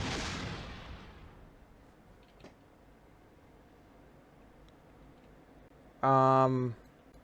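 A Mercury capsule blows up from overheating in a spaceflight game: one loud blast at the start that fades into a low rumble, followed later by a short electronic tone.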